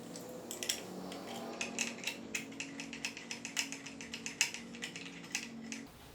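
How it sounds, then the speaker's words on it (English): Kayak fishfinder mount hardware being tightened with a ratcheting tool, a steady run of quick clicks repeating for about six seconds, close and clear, then stopping. "go ahead and tighten everything up"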